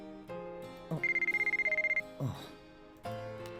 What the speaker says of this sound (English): My cell phone had been ringing for a while.